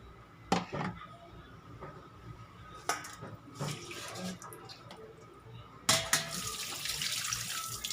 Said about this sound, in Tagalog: You can pour warm water to stop the cooking process